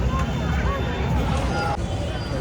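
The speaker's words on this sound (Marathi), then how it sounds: "नुसती गर्दी आहे, नुसती गर्दी." Crowd babble at the busy Lal Chowk market in Srinagar, a dense, steady murmur of many voices with street noise, close and continuous under a nearby speaker.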